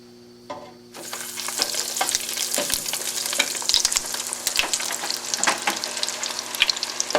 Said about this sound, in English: now it's time to go ahead and drop the fries